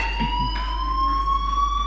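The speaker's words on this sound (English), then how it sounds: "Hey, do you hear that fire alarm?" A fire alarm blares in the video game Life Is Strange, a loud, steady electronic tone with a slowly rising pitch that sounds continuously throughout and stands alone.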